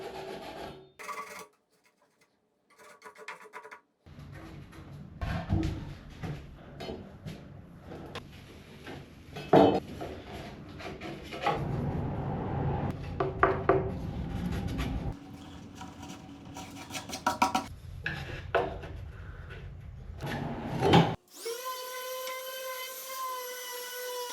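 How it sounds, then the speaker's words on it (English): A handsaw rasps back and forth through a pine dowel in uneven bursts of strokes, with pauses between, ending in a brief high tonal whine. "Time to cut the dowel to size"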